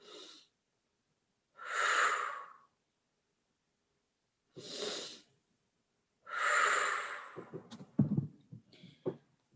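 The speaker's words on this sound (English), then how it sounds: "take a deep breath in through your nose" Several slow, deep breaths drawn through the nose, each an audible airy inhale and exhale lasting about a second, close and quiet with silent pauses between, followed by some brief rustling.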